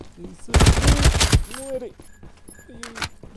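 Rapid automatic gunfire rattles loudly in a burst during a Farlight 84 battle royale match, followed by sparse shots, with a voice talking over and after it.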